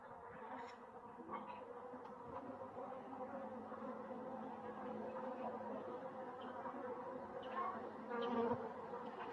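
Honeybees hum steadily at a hive whose colony has begun laying eggs, while they are being given feed; a dense, continuous buzzing drone fills the scene with occasional individual bees passing nearer.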